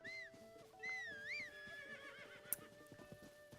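A horse whinnies in Zelda: Tears of the Kingdom, a loud high wavering neigh followed by a second one, then clip-clopping hooves and a sharp click, with no talking.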